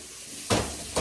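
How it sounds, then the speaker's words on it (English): Tap water gushes over a warm tool handle in a garage, a close hiss that bursts on suddenly and surges again moments later. "Now, I'm just putting it under water, letting it cold."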